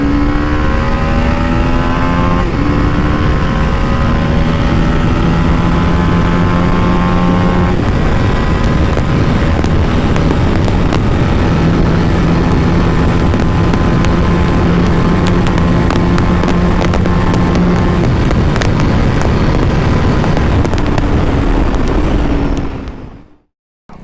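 A 2022 TVS Apache RR310 BS6 motorcycle engine revs loud and close, climbing through rising pitch sweeps as it accelerates through the gears with brief drops at each shift, then cuts off abruptly at the end.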